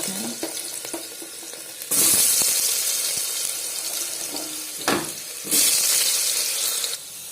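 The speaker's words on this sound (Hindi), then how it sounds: "आलू के फ्राई कर दमा थी गरम हो गला तेल आलू दे दे।" Potatoes dropped into hot oil in a village kitchen, loud steady sizzling and hissing with stirring sounds, swelling into louder frying bursts.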